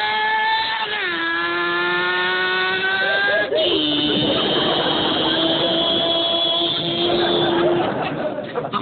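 A voice imitates a revving Suzuki motorcycle engine, a loud, close buzzing drone that shifts pitch with a gear-change drop partway through, then holds a rough, sustained note.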